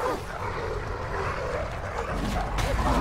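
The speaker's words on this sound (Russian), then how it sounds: "Два пса пришли. Будем с ними бороться, а что делать?" Attacking dogs in the God of War 3 video game snarl and bark in a dense, continuous stretch of growls and yelps over steady game noise.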